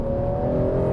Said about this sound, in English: 330 horsepower from the S54, an incredibly raspy sounding tone